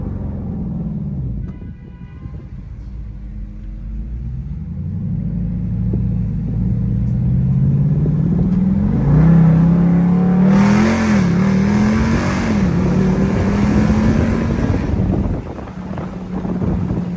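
A 2021 Dodge Durango SRT 392 with a widebody kit and bald rear tires revs hard during a launch, its engine note climbing steadily under a low rumble with wind noise, loud and close from inside the cabin.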